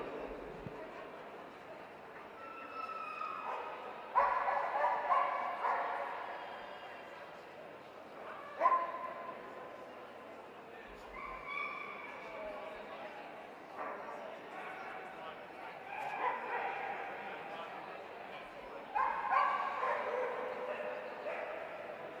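A Wirehaired Dachshund at a hound show gives short barks and yips in bursts over a steady murmur of crowd and voices in a large hall.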